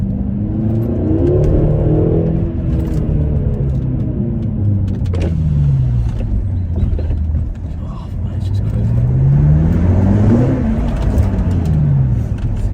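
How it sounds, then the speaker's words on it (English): BMW F13 M6 with a twin-turbo V8 accelerating hard, a loud sustained engine roar with rising and falling pitch sweeps as gears climb, close and continuous with a brief dip midway. "this is the V8 and it's got the turbos, it just keeps on going"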